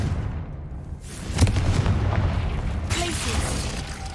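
Confringo fire-blast spell exploding in Hogwarts Legacy, a sharp booming burst followed by a sustained roaring blast, then a second crackling flare of energy, with a voice casting beneath.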